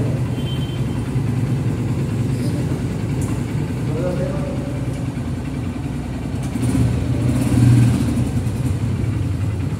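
A Honda CG 150 motorcycle on a test ride gives a steady, low engine rumble that holds throughout and swells slightly near the end.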